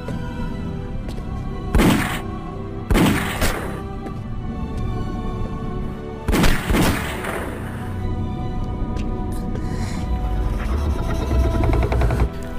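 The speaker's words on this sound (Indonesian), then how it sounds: "Zhang Ji mencoba menghancurkan lendir-lendir keras tersebut dengan tembakan" Gunshots fired at hardened slime in a film: three or four loud, sharp blasts at irregular intervals, each followed by echoing rumble, over a low droning background.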